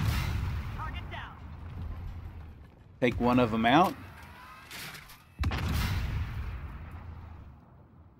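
A tank cannon in a video game fires at two Stingray vehicles, giving heavy booming blasts amid low rumbling battle noise, with a voice speaking briefly over the action.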